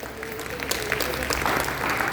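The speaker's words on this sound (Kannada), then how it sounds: "ನಿಮ್ಮೆಲ್ಲರ ಪ್ರೀತಿಯ ಚಪ್ಪಾಳೆ ಅನ್ನೋ ಒಂದು ಸಣ್ಣ ಬ್ರೇಕ್" An audience at the All Karnataka Blind Writers' Literary Conference claps in a dense, sustained round of applause that fills the hall evenly throughout.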